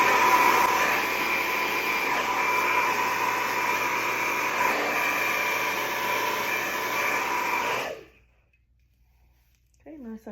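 A hair dryer runs loud and steady for about eight seconds at full force while blow-drying long hair, then cuts off abruptly into near silence, followed by a brief faint sound at the end.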